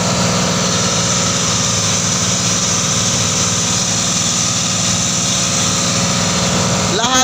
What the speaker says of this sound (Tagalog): malakas po tumakbo yung bangka namin